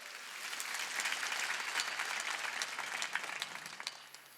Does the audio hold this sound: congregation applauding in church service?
yes